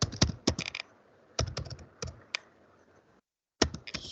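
Typing on a computer keyboard in short clustered bursts of key clicks with pauses between, close and fairly quiet, with no speech.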